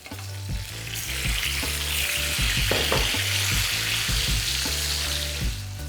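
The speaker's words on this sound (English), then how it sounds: "we are going to fry up the prawns along with some of the marinade" Prawns with tamarind marinade frying in a hot pan, a loud steady sizzle of hot oil running throughout, broken by brief scraping and stirring knocks near at hand, with no voices.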